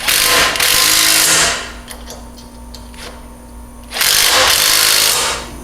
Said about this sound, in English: we'll want to go ahead and tighten the flange to the bar. We'll utilize our 9/16 socket and a 9/16 wrench.